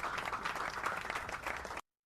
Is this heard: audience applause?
yes